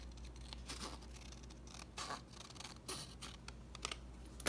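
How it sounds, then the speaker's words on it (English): Scissors snip the top of paper for a junk journal, a few crisp cuts spread over a quiet room with light rustling and a louder snip near the end. "I'm thinking what I want to do is just kind of snip the top here"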